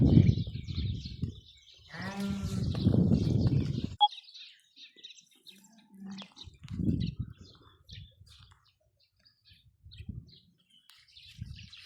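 Hissar and Arashan crossbreed lambs bleat on a farm where they are being sold, with one loud nearby bleat followed by fainter calls and scattered sounds.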